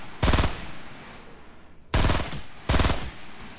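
Video game gunfire: three short, loud bursts of rapid automatic shots, close and sharp, separated by brief gaps of quiet hiss, with no talk.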